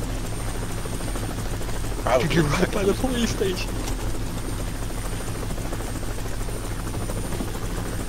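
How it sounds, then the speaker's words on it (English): A helicopter in the video game Arma 3 drones steadily overhead with a constant rotor thrum throughout, while voices talk over it. "Is that helicopter following?"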